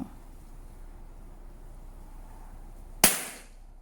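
A single sharp gunshot from a scoped rifle cracks out loud at the end, ringing briefly into a fading tail after a stretch of quiet background hiss.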